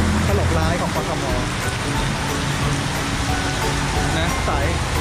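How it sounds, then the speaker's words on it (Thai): Heavy rain pours on a city street in Bangkok during a run, making a dense, steady hiss and patter of drops close around, with a voice in the mix. "โอ้ยฝนตกหนัก"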